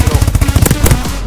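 SMG fire in Call of Duty: Advanced Warfare, a loud rapid burst of about a dozen close shots in under a second, then a couple of trailing shots.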